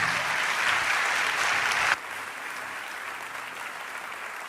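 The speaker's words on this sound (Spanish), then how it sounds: "Dale un aplauso fuerte a Dios." A church congregation breaks into strong, dense applause, then the clapping drops to a lower, steadier level and continues throughout.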